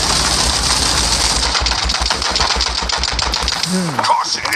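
Rapid bursts of gunfire in the video game World War Heroes rattle in quick succession, loud and mechanical, followed by a whooshing sweep near the end.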